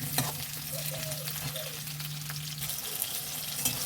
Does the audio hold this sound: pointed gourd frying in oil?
yes